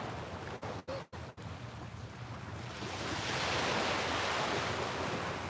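Ocean surf washes onto a busy beach with a steady rushing hiss and a wave that swells louder midway, accompanied by wind buffeting and a few sharp handling knocks at the start.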